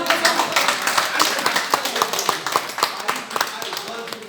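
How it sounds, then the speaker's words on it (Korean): Audience applause for a pastor at a Korean prayer breakfast church gathering in a hall, a steady patter of many hands clapping together, moderately loud and sustained throughout. "목사님한테 박수 드리죠"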